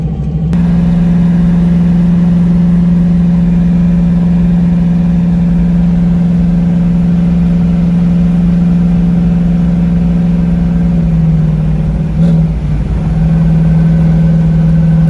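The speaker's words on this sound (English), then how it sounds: "so the car's running pretty good" Ford Mustang engine running steadily at a loud, close idle with a constant low hum, briefly dipping and rising near the end as if lightly revved.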